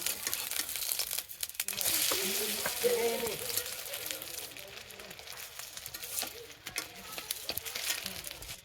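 Pumpkin leaf fritters (pakora) frying in oil, a soft continuous sizzle with crinkly crackles and occasional stirring scrapes, fairly quiet, with someone speaking briefly over it.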